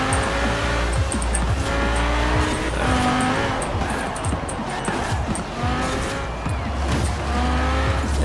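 Lamborghini supercars race in Forza Horizon 4, with loud engine roars, tire squeals and skids layered continuously as cars pass close by.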